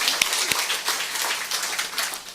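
A church congregation claps together during a worship service, a dense, fairly faint patter of many hands with a few sharper slaps standing out, without talk.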